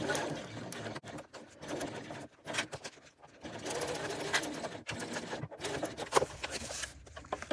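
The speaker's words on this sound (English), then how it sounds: "I'm just going to sew the section where the top trim is first, and then I will sew the lower part." A sewing machine sews a bucket bag's side seam at the top trim section, running in uneven bursts with brief pauses and mechanical clicks, fairly close.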